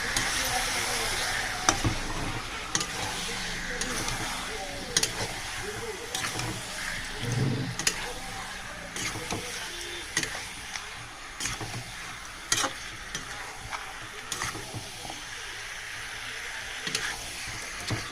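Spices with chili powder sautéing in a pan, a steady hiss and sizzle with scraping stir strokes throughout, moderately loud and continuous; some faint voice sounds drift in beneath the cooking noise.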